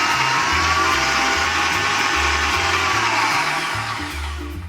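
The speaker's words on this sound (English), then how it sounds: "I would appreciate this whisk attachment if it breaks up these lumps" Electric hand mixer with a whisk attachment beating runny cake batter, a steady loud motor whir with rhythmic low thumping as the whisk knocks the bowl, running continuously and easing slightly at the end.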